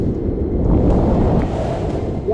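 Heavy monsoon waterfalls at Tamhini Ghat pour in a steady, loud, broadband roar, a dense continuous rush with no breaks and no voices.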